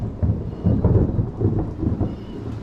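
Thunder rumbling through a thunderstorm with rain, heard from inside an abandoned barn: a low, rolling growl that swells in waves over steady rainfall, close and heavy.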